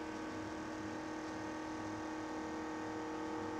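A rechargeable camping fan's motor runs at full speed, giving a steady, even whirring drone with no pauses and no voices.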